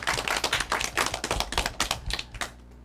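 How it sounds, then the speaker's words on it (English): A small audience applauds elementary school academic derby teams, a short burst of sparse, close handclaps lasting a few seconds before fading out. "Let's give them both a huge round of applause."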